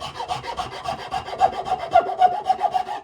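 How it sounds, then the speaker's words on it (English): Rhythmic rasping strokes of a file and scraper working violin wood, roughly a dozen quick back-and-forth passes, close and steady with no talking. "I'm alternating between scraping and filing"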